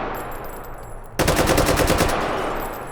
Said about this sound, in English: I will never tire of firing an AK in this game